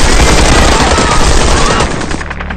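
A loud, close burst of rapid automatic gunfire, shots rattling together before cutting off abruptly.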